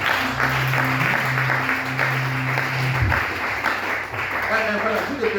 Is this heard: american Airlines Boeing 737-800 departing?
no